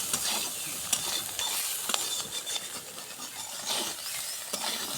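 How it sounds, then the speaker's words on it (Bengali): Soybean and eggplant fry with turmeric in oil in a pan, a steady close sizzle with scraping stirs and light clinks of a spatula, continuous and fairly quiet with no talking. "সুন্দর করে আমরা এটা ভাজে নিব।"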